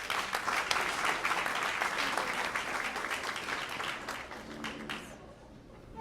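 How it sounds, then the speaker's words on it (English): A crowd at a Port Coquitlam business awards ceremony applauds steadily, a broad wash of clapping that gradually thins and fades toward the end. "one more round of applause, please"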